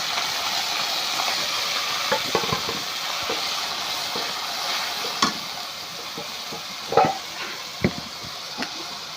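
Ginger and garlic frying in oil give a steady, fairly loud sizzle with stirring scrapes, and a few sharper bursts of spitting and hissing come near the end as water goes into the pan.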